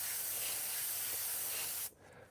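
An airbrush sprays a light dusting of 4050 clear coat over vintage lettering cutouts, a loud steady close hiss that stops abruptly near the end, leaving quiet room tone.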